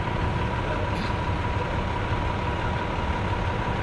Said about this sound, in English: I'm standing next to a idling dump truck and it's very loud